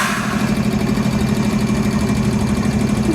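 A CSX locomotive lead engine rumbles close by with a rough, sputtering exhaust, a steady loud throb with rapid uneven pulsing throughout.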